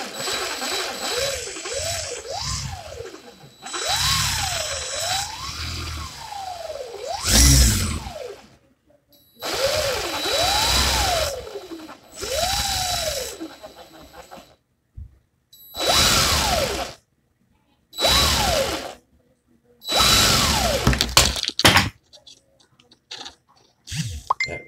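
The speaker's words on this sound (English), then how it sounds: "I'm going to put my drill in the forward rotation," A handheld drill spins coil wire in forward rotation during a coil build, running in repeated bursts of whirring motor that rise and fall in pitch, separated by brief pauses and clicks.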